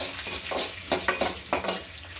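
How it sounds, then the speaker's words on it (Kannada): Cumin and fenugreek seeds roasting in a hot pan for an Andhra-style coriander chutney, giving a soft steady sizzle broken by a few scraping stirs, close and fairly quiet. "1 ಟೇಬಲ್ ಸ್ಪೂನ್ ಜೀರಿಗೆ ಹಾಕ್ಕೊಳ್ಳಿ. 1/4 ಟೀ ಸ್ಪೂನ್ ಮೆಂತ್ಯ ಹಾಕ್ಕೊಳ್ಳಿ. ಹಾಕಿ ಅದನ್ನ ಚೆನ್ನಾಗಿ ಹುರ್ಕೊಳ್ಳಿ."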